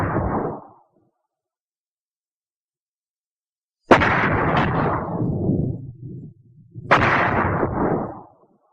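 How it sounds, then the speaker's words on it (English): Heavy explosions from mortar shells in a 1943 wartime film, two loud blasts a few seconds apart that each rumble and roll away, following a brief earlier burst and a stretch of silence. "Of course, an exploding mortar shell can kill."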